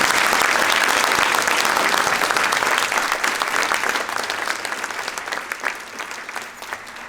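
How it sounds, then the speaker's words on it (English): Applause from an audience at a Special Olympics BC Hall of Fame ceremony rises in a dense, sustained clatter of clapping, then gradually thins and fades toward the end. "Let's have one more big round of applause for all of the inductees."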